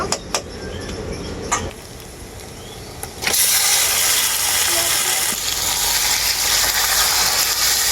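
Marinated chicken hits a pan of frying onion, ginger and garlic. A few clicks and knocks come first, then a sudden loud sizzle begins and stays steady and close.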